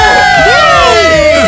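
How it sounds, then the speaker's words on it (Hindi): A crowd cheers and whoops at a fashion show celebrating a model collection, loud excited voices with high shouts overlapping, with no clear clapping standing out. "तालियां बज रही है"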